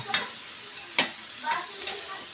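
Beef tripe frying with onions in a pan, a faint steady sizzle with a few sharp scraping stir strokes spaced about half a second apart.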